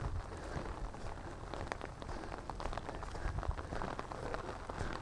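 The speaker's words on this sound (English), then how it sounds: "It looks like the rain's not going to stop today" Steady rain pattering on the forest and ground along an Appalachian Trail ridge, a dense continuous hiss with scattered sharper drops throughout, close and even.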